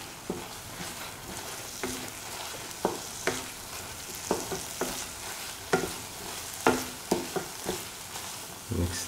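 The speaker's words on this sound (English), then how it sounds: "mix the oil with the other ingredients" A spoon scrapes and taps through oil and ingredients in a frying pan for a red spinach, lentil and coconut milk stew, about a dozen irregular clacks over a soft, continuous sizzle.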